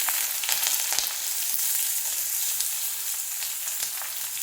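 Dried red chillies and small shallots fry in hot oil for a Kerala-style roasted-coconut chicken curry, producing a loud, dense crackle that runs continuously, with sharp spits popping out at irregular moments.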